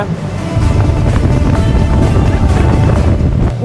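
A motorboat planing fast across open water during a stormy outing, its engine roar mixed with steady wind buffeting and water rush, loud and continuous throughout.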